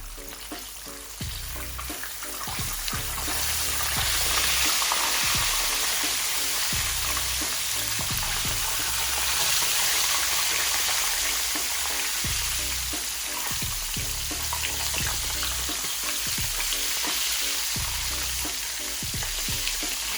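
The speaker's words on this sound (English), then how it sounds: "So just frying these for about 10 minutes." Steady, continuous sizzling of fish frying in a hot pan with oil crackling, loud and close, no voices.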